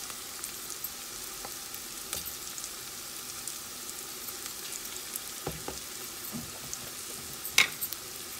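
Spices and ginger-garlic paste frying in oil for chana masala, a steady low sizzle with a few scattered spoon clicks and stirring scrapes, close by and fairly quiet, with no talking.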